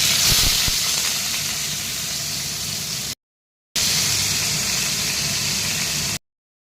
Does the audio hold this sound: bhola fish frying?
yes